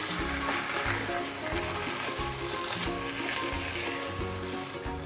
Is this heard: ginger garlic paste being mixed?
yes